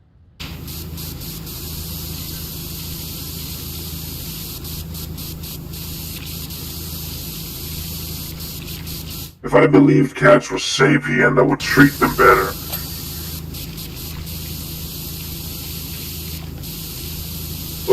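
A pressure washer in PowerWash Simulator sprays in one hissing burst of about three seconds, loud and close, while people chat before and after it.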